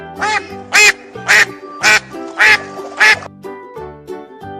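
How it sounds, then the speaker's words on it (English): A duck quacks loudly and close by, about six or seven evenly spaced nasal quacks in a steady rhythm, the last few softer. "Duck."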